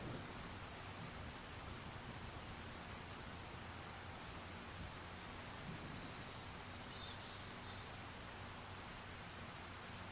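Steady rainfall in a PC farming video game, a constant soft hiss of rain without breaks, faint and even throughout, with no voices over it.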